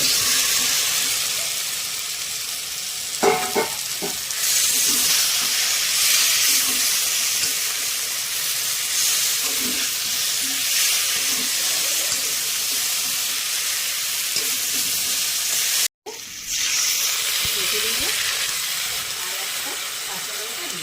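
Fried taro and potato pieces sizzle steadily in a spice paste, a broad continuous hiss with brief clatters near the start and a short cut near the end, close and fairly loud without talk.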